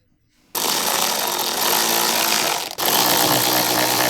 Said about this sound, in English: Use an electric ratcheting wrench with a Torx bit.